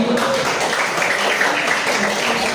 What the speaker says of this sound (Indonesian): boleh berikan tepuk tangan sekali lagi